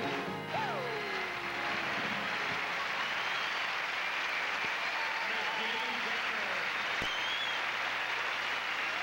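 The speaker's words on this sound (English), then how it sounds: "Y'all clap your hands." An audience at a live country music show at the Grand Ole Opry claps along steadily, a dense continuous wash of hand claps filling the room throughout, with some voices and music underneath.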